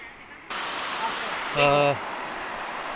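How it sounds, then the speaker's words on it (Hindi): Waterfall pouring down from above at a scenic spot, a broad steady roar of rushing water, with a brief tonal hum partway through. "देखिए, ये झरना ऊपर से आ रहा है और नीचे की ओर जा रहा है"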